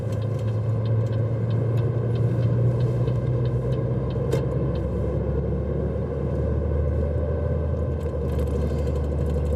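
A car pulls away from a roundabout and builds speed up a slight incline on an A road, its engine a steady low rumble with road noise heard from inside the cabin, with no talk.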